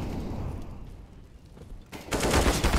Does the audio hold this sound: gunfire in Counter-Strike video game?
yes